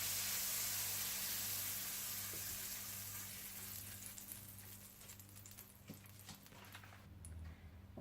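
Oil or butter brushed across a hot sizzler plate for chicken sizzler with garlic rice gives a steady close-up hiss that starts strong and slowly fades, with faint clicks toward the end.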